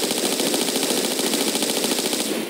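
Rapid automatic weapon fire in the video game Tomb Raider IV, set in the Giza pyramids level, a continuous loud burst of shots lasting a couple of seconds with no pause.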